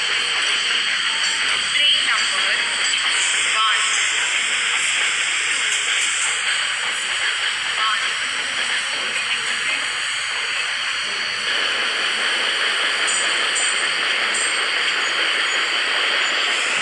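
A Shatabdi Express pulls out of Bharuch station in an Indian train simulator game, giving a loud, continuous hiss and rumble that holds steady throughout, with a faint rising tone in the background and no speech.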